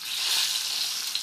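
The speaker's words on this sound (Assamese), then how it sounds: "এতিয়া প্ৰথমে হালধি দিয়া তেলতে কণীকেইটা অকণ ৰঙচুৱাকৈ ভাজি ল'ম" Eggs fry in turmeric-tinted oil with a loud, continuous close-up sizzle that holds steady throughout.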